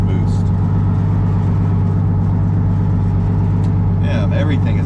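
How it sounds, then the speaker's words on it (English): Loud, steady Nissan 240 engine drone, converted to E85, from inside the cabin with a rumbling vibration, briefly rising in pitch, with faint chatter in the background. "This car is very noisy."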